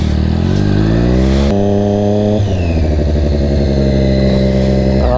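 Motorcycle engine during an emergency braking practice run, loud and close, with strong harmonic engine tones that drop sharply as the bike slows, then rise again in pitch as it revs back up.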